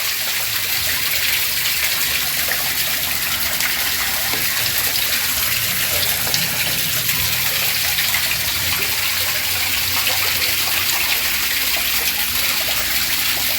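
Water gushes steadily and loudly into a tank holding young African catfish, a dense, unbroken rushing that fills the whole stretch with no pauses.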